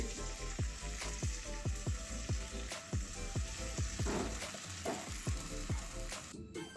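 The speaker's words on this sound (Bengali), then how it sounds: "আবার ভাজা হচ্ছে" Cabbage sizzles and crackles in oil in a hot kadai, with a regular scraping rhythm of stirring strokes, close up and without voices.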